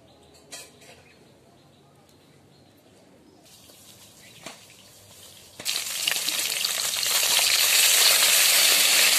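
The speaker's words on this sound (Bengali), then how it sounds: "মাছ ভাজাগুলোকে উল্টে নেব একটু। মাছগুলোকে খুব একটা বেশি হিট করে ভাজবো না," Pieces of snakehead fish fry in oil over gentle heat: quiet scattered clicks and pops at first, then a loud, steady, close sizzle takes over for the second half.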